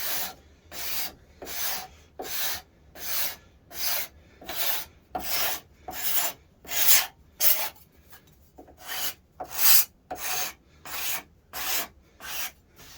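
A scraper shapes a mahogany guitar neck in steady back-and-forth strokes, each a dry rasping scrape followed by a short pause, repeating evenly at close range.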